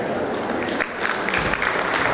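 An audience at a community oath-taking ceremony claps in sustained, dense applause, loud and close for a couple of seconds.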